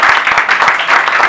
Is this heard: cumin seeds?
no